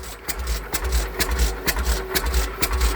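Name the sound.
oilfield 208 engine being cranked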